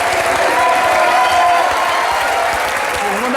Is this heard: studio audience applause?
yes